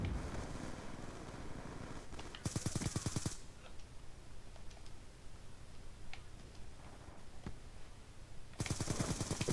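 Automatic gunfire in the online shooter Black Squad, two dense bursts of rapid rattling shots with scattered single clicks and faint game noise between them.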